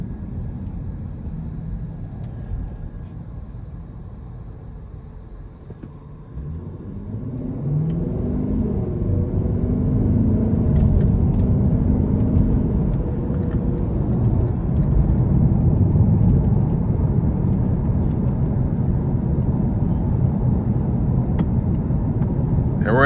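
A 2021 Lexus LC500 convertible in Sport Plus mode accelerates, its engine swelling from a low rumble into a loud, rising roar that stays up for much of the drive.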